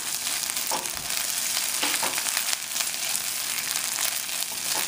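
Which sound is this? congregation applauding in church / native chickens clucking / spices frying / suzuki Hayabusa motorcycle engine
spices frying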